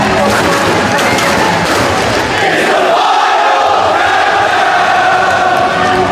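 Wrestling fans in Manhattan yell and chant in a loud, sustained roar at a Ring of Honor show after Bryan Danielson defeats Takeshi Morishima, the crowd noise swelling into rhythmic shouting toward the end.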